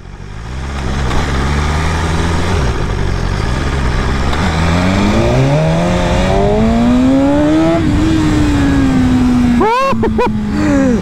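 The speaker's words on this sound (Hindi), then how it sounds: "हल्का सा थ्रॉटल दे रहे हैं, बाइक उड़ रही है." BMW S1000RR sport motorcycle accelerating hard under throttle, its loud engine note climbing steadily in pitch through the gears with brief dips at shifts, close up and continuous, ending in a sharp high rev flare.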